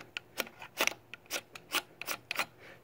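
The square-edged back of a knife blade scrapes off fine shavings in about a dozen short, dry rasping strokes, quiet and close, in an uneven rhythm.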